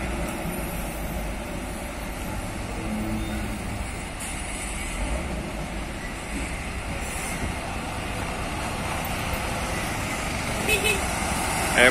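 Hino Giga container truck passing at a busy container depot, a continuous diesel rumble and traffic noise heard from nearby, with someone talking over it.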